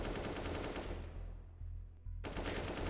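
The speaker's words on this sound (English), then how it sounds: "Ooh, nice shot from Zevi." Loud automatic gunfire in a Counter-Strike match at the BLAST.tv Major Americas RMR: dense rapid bursts fade into a brief lull, then snap back to full intensity, with no voices heard.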